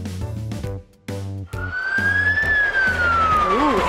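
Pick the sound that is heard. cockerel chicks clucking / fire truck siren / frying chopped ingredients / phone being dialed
fire truck siren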